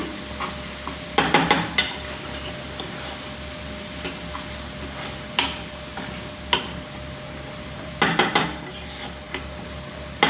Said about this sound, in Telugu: ఉప్పు, కారం వేసి బాగా మిక్స్ చేసుకుంటున్నాను